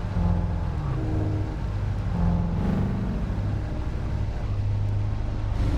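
A race car in a racing video game dives into the pits mid-race, its engine droning steadily with shifting harmonic tones as it slows, a continuous loud hum with no talking.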